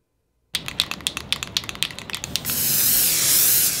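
A spray can rattles with a quick series of clicking shakes, then releases a steady, loud hiss of spraying paint.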